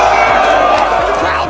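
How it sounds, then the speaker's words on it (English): A loud rap battle crowd roars and whoops in reaction, with shouted voices and cheers blending into a dense, continuous wall of noise throughout. "Crowd reaction"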